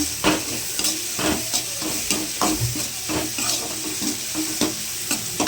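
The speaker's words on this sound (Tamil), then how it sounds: "அடி பிடிக்காமல் இருக்க நல்லா கலரி விடுங்க." Tomatoes frying in a pan are stirred with a spoon, steady sizzling under repeated scraping strokes at a quick, regular rhythm, close and fairly loud, with no talking.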